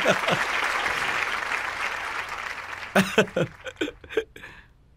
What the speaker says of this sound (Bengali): এতে হাততালি দেওয়ার কোনো ব্যাপারই নেই